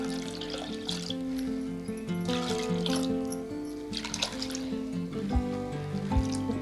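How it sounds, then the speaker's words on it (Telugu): Soaked tamarind water trickles and splashes as it is poured into a bowl for raw tamarind stew (pachi pulusu), a steady liquid dribble beneath tonal background music. "ఉంచుకున్న చింతపండు వేసేయాలండి."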